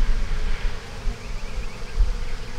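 Honey bees buzz continuously around capped queen cells in a hive, a close, steady droning hum with fluctuating intensity and no talking.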